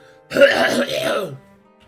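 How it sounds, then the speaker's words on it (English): A single rough throat-clearing cough, close and fairly loud, lasting about a second before fading into quiet. "so I got a cough"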